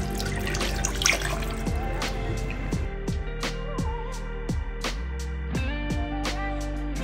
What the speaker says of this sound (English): I added my hot water into the palm kernel.